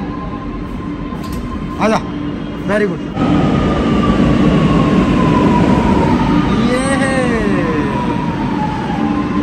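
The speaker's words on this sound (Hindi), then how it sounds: "लखनऊ मेट्रो में आ चुके हैं, पहली बार मैं लखनऊ मेट्रो में सफर कर रहा हूँ" Inside a Lucknow Metro train during a ride, a steady rumble of the carriage runs throughout, with a rising electronic chime or tone near the end and people talking close by.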